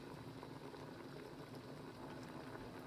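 Crab in coconut milk simmering in a pot, a very faint, steady low bubbling hum without breaks.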